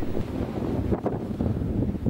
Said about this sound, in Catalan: Tot i el vent que segueix bufant